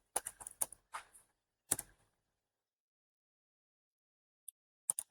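A few quick keystrokes tapped on a computer keyboard while entering a network command, a short burst of clicks, then silence and two faint isolated taps near the end.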